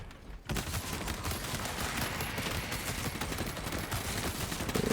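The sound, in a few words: gunfire from the video game Space Marine 2 (Astartes mod)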